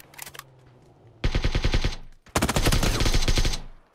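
Automatic gunfire from PUBG, the battle royale video game: a short spatter of shots, then two long, loud rapid bursts separated by a brief pause, with no talk over them.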